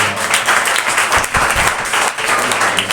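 A church congregation applauds in praise, dense continuous clapping filling the room for a few seconds, loud and close.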